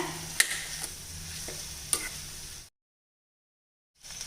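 Ivy gourd tossed with spice powder and salt in a hot pan, a steady sizzle with a few sharp spoon scrapes and clicks, then a stretch of silence before the frying noise resumes.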